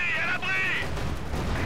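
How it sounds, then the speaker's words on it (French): Heavy 203 mm howitzer artillery in Company of Heroes 2 booms low and rumbling beneath a voice talking, with deep thuds coming through in the second half of the short stretch. "3 Gobitza ou artillerie de 203 mm si vous préférez"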